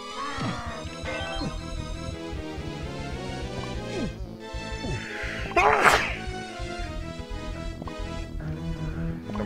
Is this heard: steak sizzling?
no